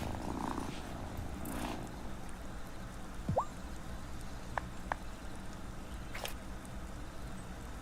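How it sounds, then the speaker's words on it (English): A cat purring in the farming-and-magic video game Wylde Flowers, a soft continuous low rumble joined by a brief game chime and a few light clicks, heard alone with no talk. "who's a good kitty?"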